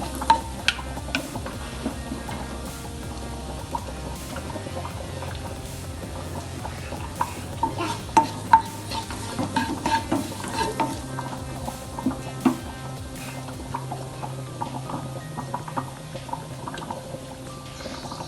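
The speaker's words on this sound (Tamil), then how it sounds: "அந்த சீரகம் பொரியட்டும்" Cumin seeds frying in a little oil in a kadai, a continuous crackling sizzle dotted with sharp pops and ladle scrapes, close and steady with no talking.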